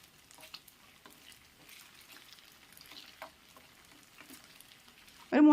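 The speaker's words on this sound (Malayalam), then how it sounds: "നിരത്തി ഇട്ട് കൊടുത്ത ശേഷം ഒരു 2-3 മിനിറ്റ് മതി കേട്ടോ നമുക്കൊന്ന് ഫ്രൈ ചെയ്തെടുക്കാൻ വേണ്ടിയേ" Cooked beef pieces spread across a pan for beef chilli fry quietly, with faint scattered crackles and ticks. A sudden loud burst of sizzle or clatter comes right at the end.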